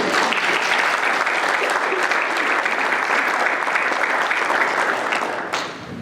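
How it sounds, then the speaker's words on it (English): Applause for departing board members at a World MS Day research reception in Winnipeg, a dense steady round of clapping from a crowd that fades out near the end. "I'd just like to take a moment to give those folks a round of applause and say thank you very much for everything."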